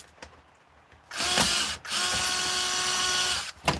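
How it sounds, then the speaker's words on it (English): Cordless drill or screwdriver whirs loudly and close for about two and a half seconds, with a short break partway through, after a quiet lead-in, then stops. "All you want is good little cordless drill. It's cordless screwdriver there"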